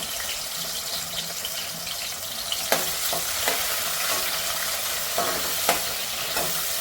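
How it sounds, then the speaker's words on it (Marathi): Chopped tomatoes fry in hot oil with a loud, steady sizzle and hiss, broken by a few sharp scrapes of a spoon stirring the pan, heard close with no talking. "टॉमॅटो चांगला फ्राय करून घेते"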